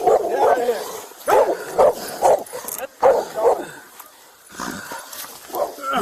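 A police K9 dog barks in short bursts during a Salt Lake County SWAT arrest, its loud yaps and yips mixed with officers shouting commands close by.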